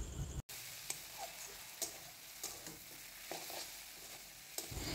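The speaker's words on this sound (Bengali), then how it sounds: "ফাইনালি ঢাকনাটা খুলে ভালোভাবে নাড়াচাড়া করে নিচ্ছি।" Jute greens frying in a pan and being stirred, a steady sizzle with scattered scraping clicks of the spatula, close and moderately loud, with no voices.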